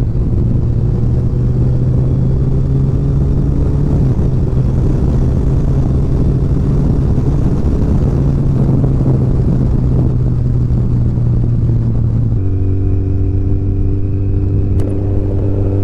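A motorbike cruising along a smooth road near Dumas Beach in Surat, its engine droning steadily with a constant rumble and wind noise, the pitch dipping slightly near the end.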